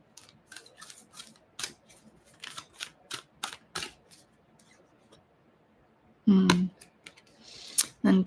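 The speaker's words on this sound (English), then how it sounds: "Let's just give these a little shuffle." A deck of tarot cards is shuffled close up, giving a run of quick crisp card flicks and riffles in uneven bursts, then a pause and a louder final rustle.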